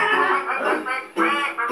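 Ducks on a farm give a couple of loud, nasal quacks close by, with a brief dip between the calls.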